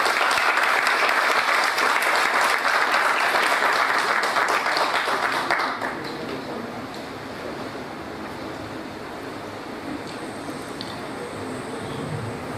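Loud, dense applause from a ceremony audience honoring a commendation recipient at a heraldry society's year-opening event, sustained for about six seconds before dropping to a softer room murmur.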